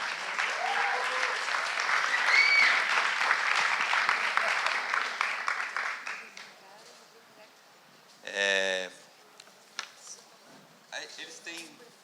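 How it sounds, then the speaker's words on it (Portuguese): An audience at a panel discussion breaks into applause, loud dense clapping for about six seconds that fades out, followed by quieter room noise and brief talking. "uma salva de palmas, por favor"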